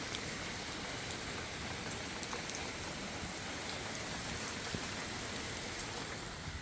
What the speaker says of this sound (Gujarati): આ વખતે વરસાદ અમારી ઉપર કંઈક વધારે જ પડતો મહેરબાન છે